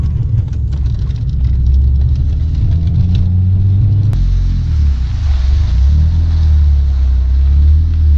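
A car takes a turn fairly fast on a test drive to check whether its wheels rub, the engine and road noise forming a steady loud rumble close to the microphone, with one sharp knock partway through.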